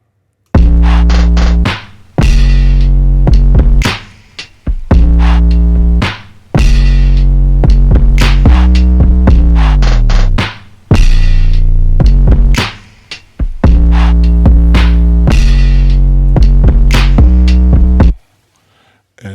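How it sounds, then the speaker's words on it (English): Gritty FL Studio glitch effects stacked over a slowed-down drum break in a hip-hop beat, loud and dense, with heavy low end and stuttering cuts that drop out briefly several times before stopping near the end. "So I used all those sounds to complement the slowed down drum break that I used"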